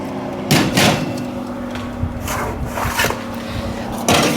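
Bread loaves slid into a hot oven at home: a few knocking clunks and a door thud near the start, a soft rattle in between, and another clunk at the end, all over a low steady electrical hum.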